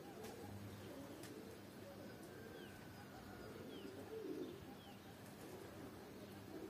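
Baku pigeons coo softly and faintly outdoors, low repeated murmurs mixed with light bird chirps over a quiet background.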